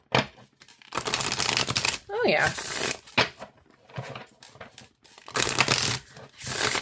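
A deck of oracle cards being shuffled by hand, with repeated papery riffling and flicking bursts coming in quick clusters close by, while someone talks over and between them.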